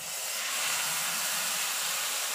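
Ground pork added to a hot pan hisses loudly in a continuous, close, steady sizzle with no pauses.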